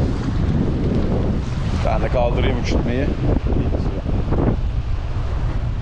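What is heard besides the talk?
strong wind at kite beach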